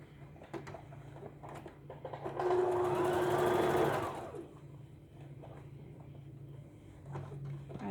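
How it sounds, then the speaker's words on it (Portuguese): A sewing machine runs a steady seam along the lining of a handmade bag, a loud, even whir lasting about two seconds, surrounded by quieter handling clicks and rustles. "Agora, eu vou costurar o outro lado da peça."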